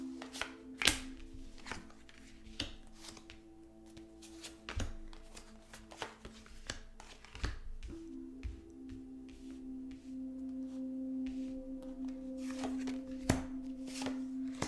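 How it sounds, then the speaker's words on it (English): Tarot cards shuffled and pulled by hand: soft, scattered flicks and taps spread over a quiet stretch, faint and close, with a steady low tone humming underneath. "The cards are like I'm pulling them from the middle instead of the top"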